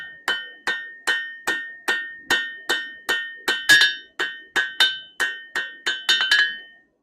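A blacksmith hammers steel on an anvil while forging a taper, a steady series of about twenty bright ringing strikes at a regular pace, close and clear, with no talking.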